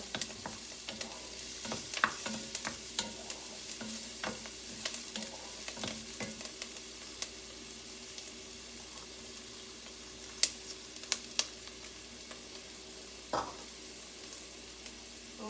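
Onions sautéing until nearly translucent in a pan for chicken tortilla soup, giving a steady low sizzle broken by repeated scraping and clattering stirs, with a few sharper knocks near the end and no voices.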